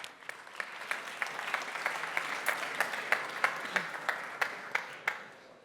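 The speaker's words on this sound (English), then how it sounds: "Give them an applause, please" Audience applause welcoming four presenters onto a stage at a startup demo day anniversary event, a steady crowd clapping with a few louder individual claps standing out, fading slightly at the end.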